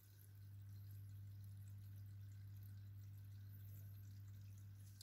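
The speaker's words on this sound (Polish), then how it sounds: "lekki szum wody, silnika nie słychać w ogóle" A faint, steady trickle of water from an HW-602B canister aquarium filter runs continuously beneath a low constant hum, quiet and even throughout with no voices.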